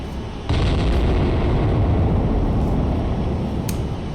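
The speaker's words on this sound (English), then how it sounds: "Bridge, battery, guns engaging." An Iowa battleship's big guns fire in the naval combat game Cold Waters, a sudden loud blast opening into a sustained, roaring rumble of gunfire and explosions with a couple of sharper cracks near the end.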